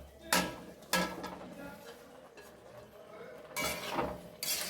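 Chopped chapati pieces stirred in a pan with a spoon, giving several sharp metallic scrapes and clinks at an irregular pace, moderately close, with quieter shuffling between strokes.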